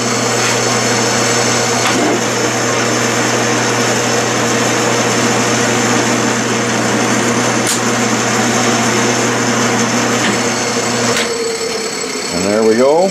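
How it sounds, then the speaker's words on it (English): Metal lathe threading a rod with a geometric self-opening die head in a workshop: a steady loud machine hum with a constant whine runs throughout, then winds down near the end. "I'm going to thread another one, and I've got it set so that it'll be just a little bit longer thread"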